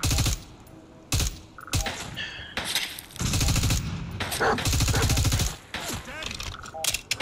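Rapid rifle gunfire from the video game Fallout 4 (modded), loud bursts and single sharp shots with short gaps, close and dominant throughout.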